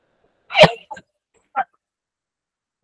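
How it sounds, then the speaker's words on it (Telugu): A woman gives a single loud, close cough mid-speech, followed by a couple of faint short throat sounds and then quiet. "క్షమించండి, దగ్గు ఎక్కువైపోయింది"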